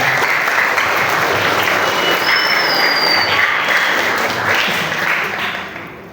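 Loud, sustained clapping from a student audience at a school orientation event, a dense steady roar of hands that holds for several seconds before beginning to taper off at the end.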